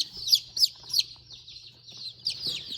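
High, bright peeping chirps from young Golden Comet chicks, repeated in quick bursts, fairly close, with faint low background hum and a few soft knocks.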